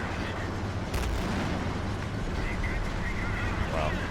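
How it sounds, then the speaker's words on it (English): In the Men of War: Assault Squad battle, a single artillery round bursts with a short, sharp boom, heard once against a constant rumble of combat noise. "Artillery round exploded in front of our vehicle and somebody blew out through the driver's compartment."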